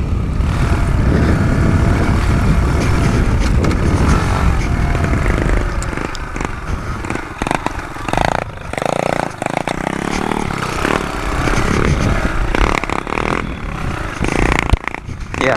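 A 2017 Kawasaki KLX110 dirt bike engine roars continuously on a top speed run, loud and close with a steady drone and wind rush throughout.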